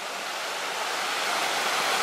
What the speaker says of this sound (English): just to get a closer look at the uh, waterfall, which is obviously the feature here